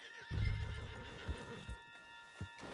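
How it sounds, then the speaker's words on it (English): A horse whinnies in the Red Dead Redemption 2 video game, a short neigh near the start followed by a few soft hoof clops, fairly quiet and with no talk. "Put Strauss on the back of John's horse, and let's get out of here"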